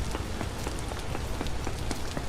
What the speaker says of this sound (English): The rain sounds really good in this game